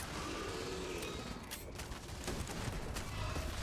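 Rapid gunfire from the video game Starfield rattles in dense, continuous bursts over mechanical clatter, loud and sustained throughout.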